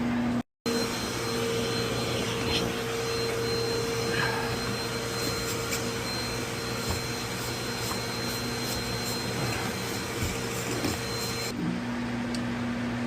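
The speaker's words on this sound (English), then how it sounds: "Still need to vacuum it out" A vacuum cleaner runs loudly and steadily with a constant whining hum, briefly cutting out near the start before continuing alone.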